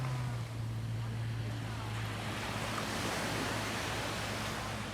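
Sea waves at Brighton Beach, a steady broad wash of surf with wind noise and a low hum, continuous and fairly loud, with no distinct voices.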